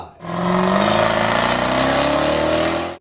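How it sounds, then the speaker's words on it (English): A Jaguar F-Type SVR's supercharged V8 revs loud and close, a sustained throaty roar with rising harmonic tone that holds steady for about three seconds before cutting off abruptly, no voices. "Jaguar F-Type SVR, the first V8 on the list"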